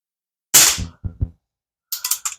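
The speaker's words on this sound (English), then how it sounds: "Got 4 more shots on that target there." A Crosman 1377 air pistol fires Apolo domed pellets: one sharp close crack, then a couple of quick pumping clicks, and a short cluster of faint metallic taps at the end, with silence between.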